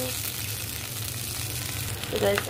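Onions frying in a pan for a koi fish curry with potato, eggplant and tomato, a soft continuous sizzle close by, with a slight stir or splash near the end.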